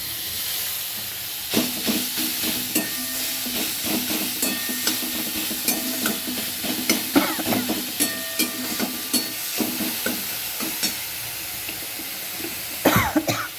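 Onions fry in an old, worn kadai for ghugni, giving a steady sizzle and hiss punctuated by repeated scraping clicks of a spatula stirring the pan.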